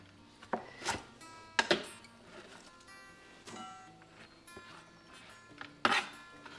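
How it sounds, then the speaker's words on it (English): A knife cuts cauliflower stems into small pieces with a few irregular, sharp thuds and taps on a cutting surface, close and fairly quiet, separated by soft rustling and pauses. "Just have these stems here, so we'll just cut them up into little pieces."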